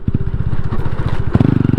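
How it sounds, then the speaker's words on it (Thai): A modified Honda Dream motorcycle engine chugs in a rapid, throbbing pulse up close, then quickens into a sharper burst of revving near the end. "แต่ผมชอบเสียงเบิ้ลห้าสามนะผมว่ามันจี๊ดดี"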